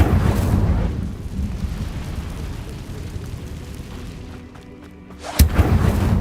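An Incendio fire spell cast in Hogwarts Legacy, a roaring, rumbling burst of flame that swells and fades over several seconds, followed by a sharp impact near the end.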